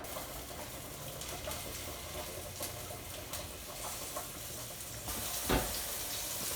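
Meatballs frying in oil in a pan, a soft, steady sizzling hiss with faint crackles and a brief pop near the end, quiet and continuous with no talking.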